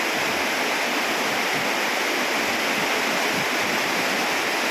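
Loud, steady rush of fast-flowing floodwater coming down from the mountains in a stream, a dense unbroken roar close by with no voices.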